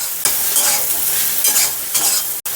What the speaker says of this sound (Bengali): সয়াবিনগুলো হালকা ভেজে নিচ্ছি